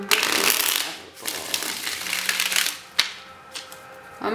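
A deck of tarot cards is shuffled by hand, a dense riffling clatter near the microphone that eases off, followed by a couple of sharp taps as the deck is squared.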